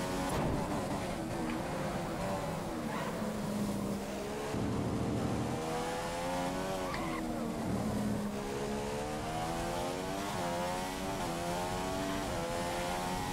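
Simulated Formula 1 car in the F1 2015 racing game accelerating through qualifying at Malaysia, a loud, continuous engine roar sweeping up in pitch through repeated gear changes for the whole stretch, with faint talk in places.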